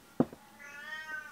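A house cat that has just caught a special toy spring lets out a short, sharp vocal burst, then gives a drawn-out, muffled meow, moderately close in a quiet indoor room.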